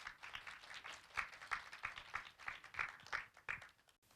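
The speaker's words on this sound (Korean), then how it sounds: "여러분 뜨거운 박수 부탁드리겠습니다." Audience applause at an online journalism awards ceremony in a university hall, a steady wash of many hands clapping with rhythmic swells, moderately loud and without talk.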